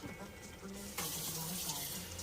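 Water runs steadily from a tap, splashing into a sink, growing louder and fuller partway through as the stream hits a can being rinsed.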